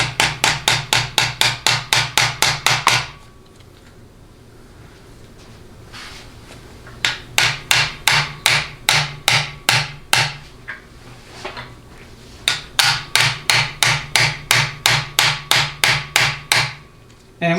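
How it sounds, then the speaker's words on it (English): A hammer gives a 3/16 roll pin rapid, evenly spaced metallic taps as it is driven into a Ford 6R80 transmission, coming in three bursts of about ten to a dozen strikes with short pauses between them. "I'm going to start by just simply tapping the roll pin in to get it going"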